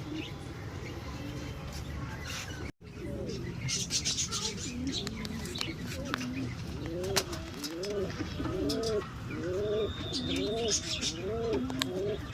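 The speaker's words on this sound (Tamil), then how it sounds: "என்ன புறா?" Pigeons coo repeatedly in a rhythmic series of soft, rising-falling calls outside a church in Villianur, Pondicherry, with chirping birds and people talking nearby.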